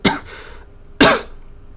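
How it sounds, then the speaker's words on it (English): A person gives two deliberate coughs as a joke, one at the start and another about a second later, loud and close with nothing else around them. "In what world is coughing an acceptable form of humour for an audience of 6 million people?"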